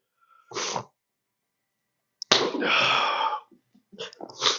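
A person sneezes loudly and sharply after a brief sniff, followed by quieter breathy sounds in an otherwise silent room.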